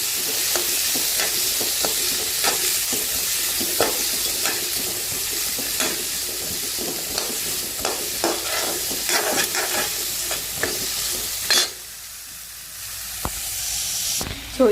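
Onion and chili sautéing in hot oil for kara chutney, giving a loud, continuous sizzle broken by frequent scrapes of a spatula, then a brief dip before the frying noise comes back.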